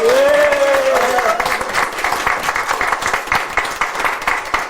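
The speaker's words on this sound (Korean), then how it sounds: "박수는 앵간하면 치지 마시고" An audience applauds at a Korean political policy announcement, a continuous wash of clapping that follows a raised voice at the start and stays steady and fairly close.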